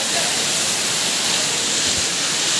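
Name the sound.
Ashokjhar waterfall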